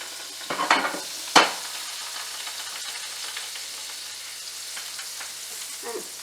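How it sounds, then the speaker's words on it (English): Butter melts in a hot pan with a soft, steady sizzle, faint and continuous, broken early by a couple of brief clatters as it goes in and is moved. "the residual heat from the pan is already melting the butter"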